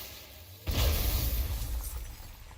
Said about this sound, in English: Want me to shatter it?